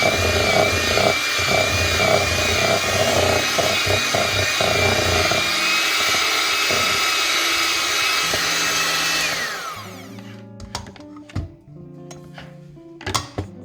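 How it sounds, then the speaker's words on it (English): A handheld kitchen mixer runs on low speed through butter for blueberry muffin batter, a steady close motor whine with beater clatter for about nine seconds, then cutting out to a few scattered clunks and taps of bowl and utensils. "I'm just gonna use my handheld mixer to get this started."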